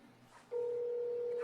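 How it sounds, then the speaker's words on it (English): A telephone call being placed gives a loud, steady electronic line tone that holds unbroken for about a second, after a brief stretch of faint background murmur. "let me get Chris on the phone"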